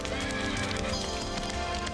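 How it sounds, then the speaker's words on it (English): Cavalry horses galloping in a massed procession, a dense continuous rumble of hooves with whinnies blended into a loud, full soundscape. "Squadrons of cavalry escorted them as well."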